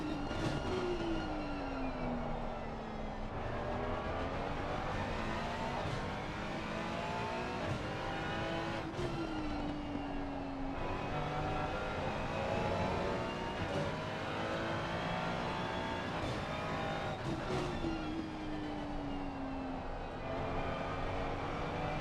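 Simulated racing car lapping Brands Hatch in a sim racing game, its engine droning loud and steady throughout, with pitch rising through gears and falling sharply on downshifts into braking zones, no talk.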